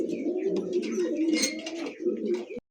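Pigeons coo in a low, steady rolling murmur, a big-sized pair of pigeons kept for sale in Bangladesh, with brief chirpy sounds and a faint voice in the background.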